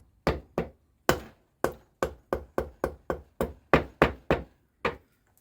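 A repaired Nissan Micra drive shaft is knocked home with a series of about fourteen sharp, close hammer blows, irregularly spaced, each a crisp impact with a short ring and clear silence between.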